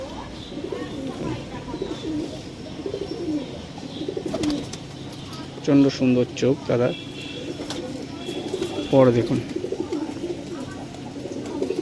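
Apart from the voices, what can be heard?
Punjabi Malbai pigeon cooing and fluttering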